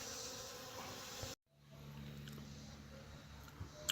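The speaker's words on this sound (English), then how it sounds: "the bees are going crazy over that feeder right there" A soft, steady buzzing of bees swarming around a feeder nearby, cutting out briefly before resuming as a continuous low drone.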